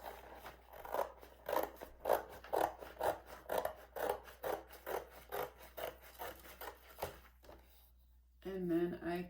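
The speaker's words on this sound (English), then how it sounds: "what I could do is I could take my scissors" Scissors snip paper cutouts for a treehouse craft in a steady run of about a dozen rhythmic crunchy cuts, close up, before a brief pause and a voice at the end.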